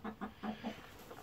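A broody hen clucks softly and close by, giving four or five quick, low, rhythmic clucks in a short, quiet burst.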